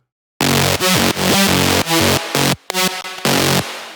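A buzzy detuned saw synth repeats a choppy rhythmic pattern of notes, the tails lingering and blurring together as if washed in reverb.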